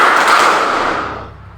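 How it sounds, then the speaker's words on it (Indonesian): A classroom of students claps in unison. Their hands land together in one loud, sharp burst that quickly fades away. "Tepuk tangan satu."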